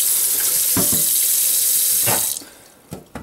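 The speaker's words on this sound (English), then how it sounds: "we're going to just really scrub out this pan with a sponge" Running tap water rushes steadily into a sink while a cast iron pan is scrubbed, with a few soft knocks before the flow cuts off, leaving faint drips and clunks.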